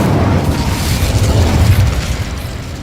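An Incendio fire spell cast in Hogwarts Legacy roars out as a continuous, loud booming burst of flame, a rumbling eruption that holds steady for about three seconds.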